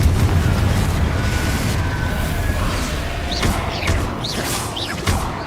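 Confringo blasting spell from Hogwarts Legacy going off as a sustained roaring explosion with a deep rumble, followed by several sharp crackling bursts and pops near the end.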